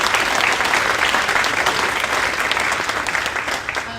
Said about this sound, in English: So let's clap for anyone that did that work